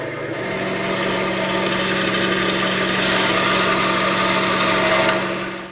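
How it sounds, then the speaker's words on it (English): A bandsaw runs steadily while cutting wooden plugs free, a loud continuous high-pitched whir with a constant motor hum that tapers off at the end. "Over here at the bandsaw, I can free up my plugs."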